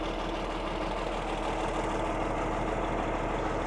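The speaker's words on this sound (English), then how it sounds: "I mean, it is a John Deere, so I hate to give it too much credit, but it runs pretty good" A John Deere tractor engine idles steadily nearby on a farm, a low, even rumble with a faint knocking pulse that holds constant throughout, no voices over it.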